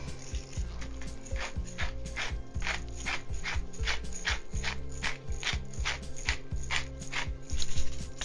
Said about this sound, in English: about a 1/4 teaspoon fresh ground pepper